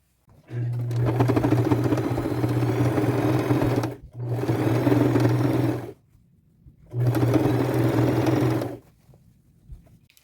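A sewing machine double-stitches a seam on jeans in three steady, loud whirring runs, each lasting a couple of seconds with brief quiet gaps between them, close-up and without talk.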